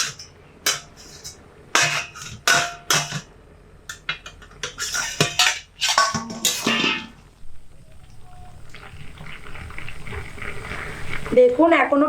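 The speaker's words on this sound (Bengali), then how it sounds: "একবার আমি ঢাকনাটা খুলে দেখে নেব যে বুটটা কতটা সিদ্ধ হয়েছে" A lid is lifted off a pot of boiling chickpeas and the contents stirred, with clinks of metal utensils and a bubbling simmer underneath, while a person talks over much of it.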